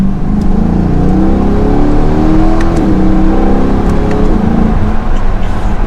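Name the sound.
2022 Chevrolet Corvette C8 R Edition accelerating onto highway, track mode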